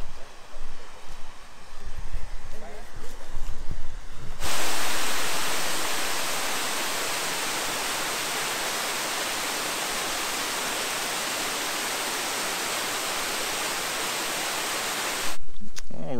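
Waterfall rushing steadily beside open-face cabins at a camp on a winter hike, a loud, continuous broadband roar that sets in abruptly after a few seconds of quieter outdoor sound and holds evenly until the end.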